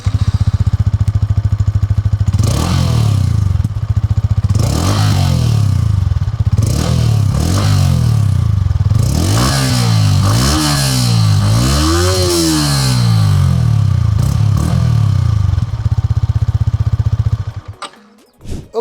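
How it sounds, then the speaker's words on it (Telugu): Yamaha XSR 155 Black Edition motorcycle exhaust, close and loud, idling and then revved in a series of rising and falling blips before the engine cuts off near the end, with no talk over it. "ఈ బైక్ ఎగ్జాస్ట్ నోట్ ఎలా ఉంటుందో ఒకసారి చూద్దాం మనం."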